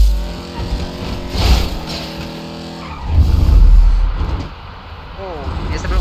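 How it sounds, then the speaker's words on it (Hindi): Street race in GTA 5 with game cars revving and skidding, tire squeals rising in two loud bursts over steady engine drone, with a voice talking over it. "ओके, अब हमें रेस करनी है."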